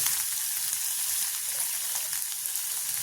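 Ginger and garlic fry in a pan over low heat alongside reddening onion, giving an even, unbroken sizzle and crackle throughout, close and moderately loud with no talking.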